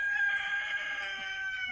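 A rooster crows once, loud and near, a drawn-out cock-a-doodle-doo with no other sounds around it.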